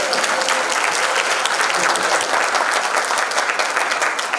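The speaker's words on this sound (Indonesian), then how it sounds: "Tepuk tangan buat saya." Dense, steady applause from an audience at a youth entrepreneurship bootcamp and festival fills the space, loud and continuous throughout with no letup, a brief tonal note at the start.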